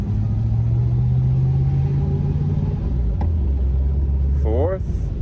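Porsche 914 with a V8 engine drives under load, a continuous close rumble whose pitch steps down as the gears change, with a brief rising rev near the end.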